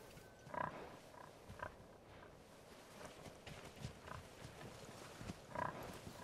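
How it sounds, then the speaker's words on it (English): Pigs wearing party hats in the video game Far Cry 5 grunt in short, quiet bursts over a low, rustling game ambience, with a few louder snorts spaced a few seconds apart. "Okay, there's pigs with party hats on."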